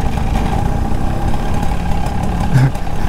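An old 1985 Bajaj Chetak geared scooter idles with a steady, even low engine drone close by for a few seconds, with no voices over it.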